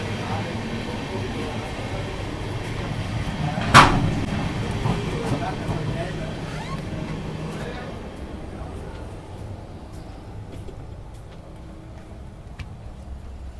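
Inside a coach of the new Sealdah Humsafar Express, a steady low rumble of the running train continues throughout, with a brief sharp clank early on, gradually fading quieter toward the end.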